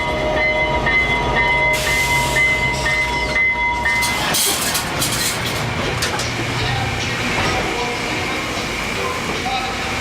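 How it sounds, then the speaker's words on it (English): VIA Rail train cars rumble and clank as they are shunted together at Vancouver station, a loud, close mechanical roar with a sharp metallic burst, while people talk nearby. "We are taking this part of the train, move it over onto the other part of the train to make it all together."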